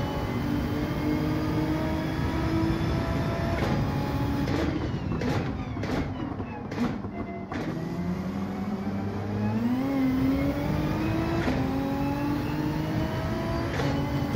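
Porsche accelerating hard out of a corner in Gran Turismo 7, the engine droning loud and close with harmonics climbing in pitch through gear changes, a brief lull mid-run, then pulling steadily again.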